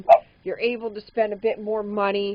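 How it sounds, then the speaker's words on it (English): A single sharp bark from one of three dogs in a home lands right at the start, then a person talks steadily without further barking. "Sorry, if you hear barking"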